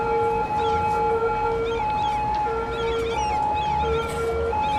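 An ambulance siren in the city-building game Cities: Skylines wails in a steady, repeating two-tone pattern, loud and continuous against faint traffic noise.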